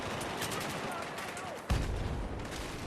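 A new alien-styled gun called the Alien Nightfall fires in Battlefield 4: a single sharp, heavy shot lands near the middle, booming loud and close over a steady wash of in-game background noise.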